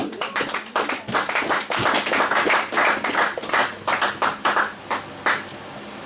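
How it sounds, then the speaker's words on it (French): A church congregation claps for the Lord during a sermon, a close, lively burst of many hands clapping in uneven, rhythmic waves that rise and dip without pause. "On acclame pour le Seigneur."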